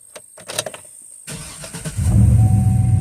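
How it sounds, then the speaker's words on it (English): A truck engine with an electric fan conversion cranks with a few sharp stutters, catches and settles into a steady idle, then revs up into a louder, sustained drone. "And I can show you just as simple as revving the motor."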